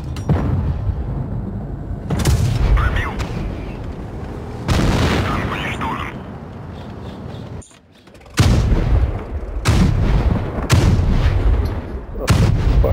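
A tank drum autoloader firing in the WoT Blitz video game, with several loud booming shots in quick bursts separated by short pauses, heard close and alone.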